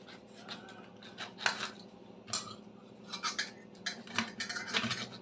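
A dull knife scrapes and saws through fish on a board, giving faint, irregular rasping strokes and small clinks in a quiet kitchen.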